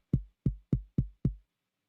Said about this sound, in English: One of them is a 606 that sounds like this.